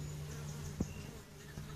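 Honey bees hum faintly around an open top bar hive, a low steady drone with a soft thump partway through, quiet and close with no talking.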